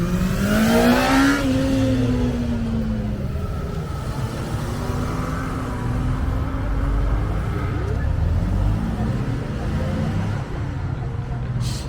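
BMW M3 at a cars and coffee meet in Nantes, a right-hand-drive car, engine revving up then settling into a rough idle, close and steady, with people chatting nearby.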